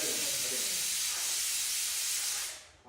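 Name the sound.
pressure cooker releasing steam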